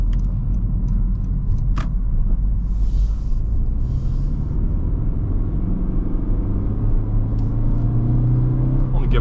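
An 11th-gen Honda Civic hatchback pulling a trailer at about quarter throttle, its engine rumbling steadily as speed builds, with road and wind noise filling the cabin throughout.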